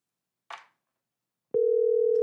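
A telephone line picks up with a short click and a burst of noise, then a steady, unbroken tone sounds clearly on its own while a number is called.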